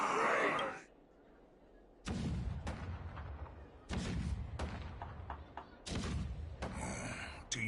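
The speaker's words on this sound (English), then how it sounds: "Do you hear that? The rumble of the cannons." Heavy booming blasts of cannon fire in a video game, in bursts, deep and thudding like distant cannons, separated by short quiet gaps, with a few sharper cracks between.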